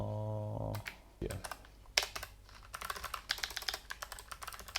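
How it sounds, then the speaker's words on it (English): Rapid keystrokes on a computer keyboard clatter in uneven bursts at close range, following a short steady tone at the start. "I've recently reconfigured my keyboard layout slightly, and so I'm always punching the wrong keys"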